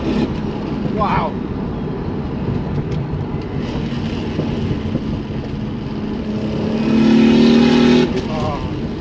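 A manual Toyota Supra with a single big turbo revs hard, the engine note rising and swelling near the end with a loud sustained pull, heard from inside the car over steady road roar.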